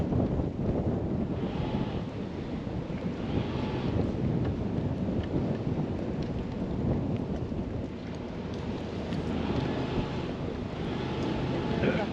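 Strong wind on the Norfolk Broads buffets the microphone in a constant low roar, loud and close, with no clear speech over it.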